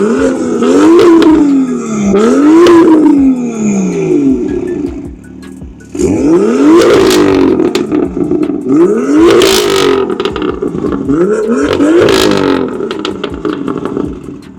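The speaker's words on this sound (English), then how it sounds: "that's the sounds of the exhaust note there" A car fitted with a Cobra downpipe exhaust starts up and revs several times close by, loud rising and falling engine notes with short pauses between blips and no talking.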